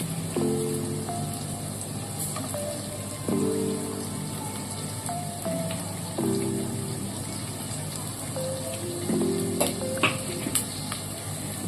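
Diced onions and slit green chillies frying in a pan, a steady crackling sizzle with repeated scraping stirs at regular intervals, close and moderately loud, no talk.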